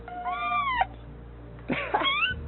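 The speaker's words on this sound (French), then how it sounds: "bruit de chaton" Two high, thin kitten meows, slightly tinny, played through a small speaker inside a small box, separated by a short pause over a low background hum.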